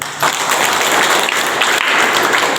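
An audience breaks into loud, dense clapping, a short burst of many hands applauding together close by.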